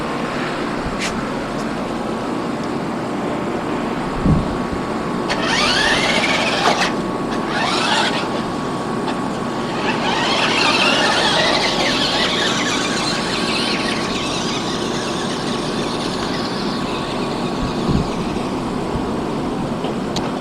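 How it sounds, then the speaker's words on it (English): A Lego Jeep built on a small remote-control car drives across concrete with a steady high whine and rolling rumble, rising and falling as it moves nearer and farther, with no talking. "See if we can get a video of it riding across the concrete real quick."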